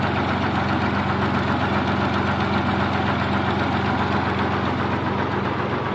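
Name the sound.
Fiat 480 tractor engine idling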